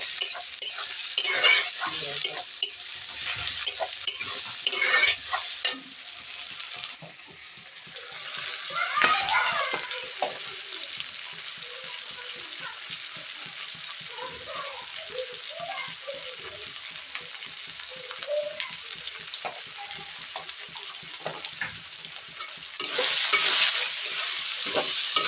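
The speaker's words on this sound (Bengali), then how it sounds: "দেখো পেঁয়াজটা এখন ভাজা হচ্ছে" Onions frying in a pan for a spicy chicken dish, with steady sizzling and repeated scraping stirs over about twenty-five seconds, louder bursts at the start and end.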